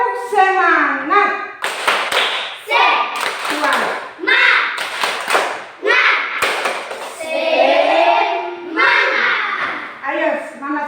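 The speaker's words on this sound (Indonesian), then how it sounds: "Tepuk semangat." Schoolchildren in a classroom performing a rhythmic spirit clap together, bursts of sharp claps and taps alternating with chanted children's voices in a patterned call, loud and close.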